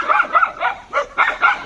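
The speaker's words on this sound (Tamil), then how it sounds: "இந்த நாய் குலைச்சிக்கிட்டே இருக்குங்க, சும்மா ட்ரோனை பார்த்து குலைச்சிக்கிட்டே இருக்குது" A dog barks repeatedly at a drone, about six or seven close, loud yappy barks in quick uneven bursts with short gaps between them.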